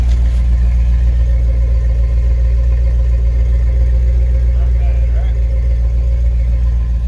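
A 2005 Dodge Ram 4x4 with a Flowmaster exhaust idles steadily, a loud, deep, even rumble that holds throughout without revving.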